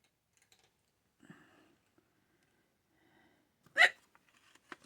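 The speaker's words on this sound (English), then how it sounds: "Sorry, hiccups." A single sharp hiccup jumps out near the end amid near silence, preceded by faint small desk clicks and soft handling noises from someone working on a Christmas journal.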